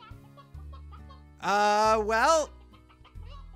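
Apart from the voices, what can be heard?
chickens clucking in the video game Slime Rancher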